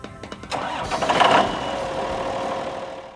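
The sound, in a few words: tractor engine starting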